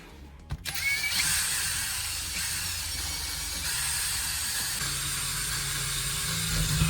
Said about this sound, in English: Drill one straight hole through the center from top to bottom.